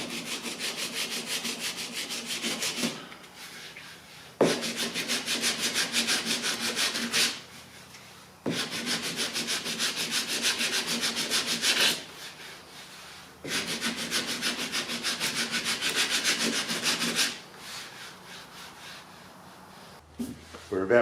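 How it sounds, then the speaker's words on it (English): Repeated strokes of a teardrop-shaped sanding block rubbing across the body panel of a Ford ZF Fairlane 30 under restoration, in four long sustained bursts separated by short pauses, close and fairly loud. "Using this teardrop shaped sanding block to get in here,"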